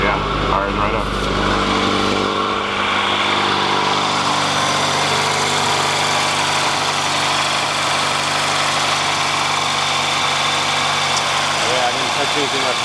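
A cold Honda Civic EF with a turbo engine fires up and settles into a steady, loud idle, its rumble continuous throughout, with a voice speaking over it.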